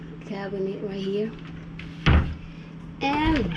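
Small wooden cabinet door in a resort hotel room in Siquijor, Philippines, opened with one short, sharp knock-like clack close by, with someone talking before and after.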